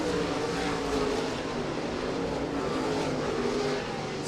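Late model race cars exiting turn 4 at I-96 Speedway, a dense sustained engine roar from several cars at full throttle, loud and steady with no pause.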